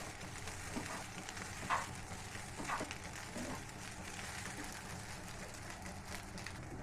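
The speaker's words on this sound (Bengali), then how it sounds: "10 মিনিটের মতো এইভাবে নেড়ে দিতে হবে।" Chow mein sizzling and frying steadily in a pan while being stirred, with a continuous close hiss and occasional soft scraping clicks throughout, no voices.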